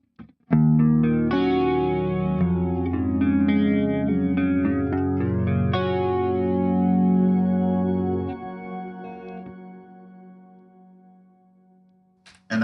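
An electric guitar runs through a BOSS GT-1000 with Vintage 30 cabinet impulse responses on both sides, playing thick distorted chords that ring out, then a sustained tone slowly decaying to near silence.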